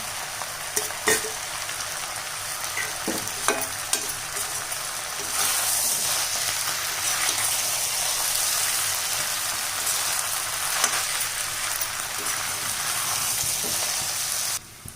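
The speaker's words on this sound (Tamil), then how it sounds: "புளியை அதில் சேர்த்து வதக்கி விட்டுருக்கோம்ல" Tamarind sautéing in a pan of onions for onion thokku: a steady sizzle and crackle with scattered stirring clicks, close and constant, rising a little partway through, with no talk.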